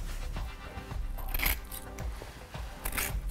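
Scissors trimming material off flush, several sharp snips and crisp cuts at close range over faint background noise.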